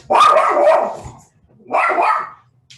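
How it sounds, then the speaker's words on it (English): A dog at home gives two loud, close barks, each a sustained harsh burst separated by a short pause. "The joys of being at home and having dogs, you all will forgive me."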